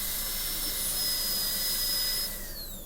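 A dental drill with a 55 burr cuts a tooth during a gingival cavity preparation, giving a steady high-pitched whine that runs loud and continuous, then drops in pitch and eases off near the end.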